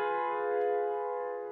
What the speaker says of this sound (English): the next triad that we're going to play, or we're going to show, is a diminished triad